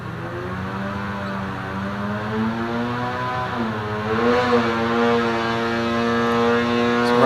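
A high-compression Polaris 850 Axys engine with a Stage 2 kit on race gas revs on a dyno, its loud buzzing drone climbing steadily in pitch as it accelerates, close and continuous.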